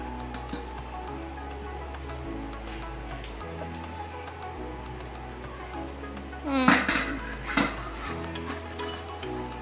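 Dishes and a kadai are washed in a home kitchen, with light clinks and scrapes of pots and utensils, and one sharper clatter of metal, over a low background hum.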